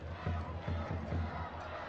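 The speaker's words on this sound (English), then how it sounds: "The crowd are behind FC Tulsa" A stadium crowd at an FC Tulsa home football match against New Mexico United roars in support, the swelling cheer rising in short surges, fairly distant and a little muffled, with faint commentary beneath.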